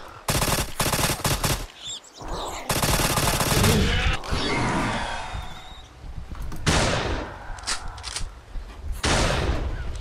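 Bursts of gunfire in the dinosaur survival horror game Acre Crisis, set in the Brazilian jungle, with loud repeated volleys of shots coming in dense clusters and only brief gaps between them.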